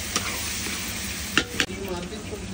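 Spice masala with turmeric is sautéed in a pan for a large batch of spicy mutton kosha, a low, steady sizzle with a few sharp scrapes and clatters of stirring.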